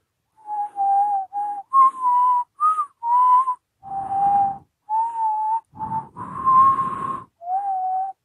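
A sequence of clear whistled notes, a Shrek film villain's entrance tune, short phrases rising and falling with breathy gaps between them, close and fairly loud.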